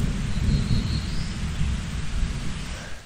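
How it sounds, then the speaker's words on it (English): Thunder rumbling in a forest, a deep continuous roll that stays loud and steady with broad hissing noise layered over the low rumble, with no voices. "Man, that thunder is ominous."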